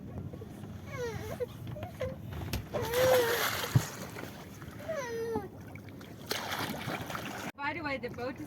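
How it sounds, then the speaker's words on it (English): Water sloshes and splashes as waves from a passing boat roll in, with voices talking nearby over the churning water. "It's going to make some waves."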